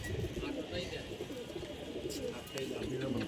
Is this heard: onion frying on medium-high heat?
no